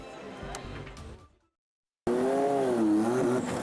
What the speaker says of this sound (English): The Bonarito 500 roared through the bi-state today.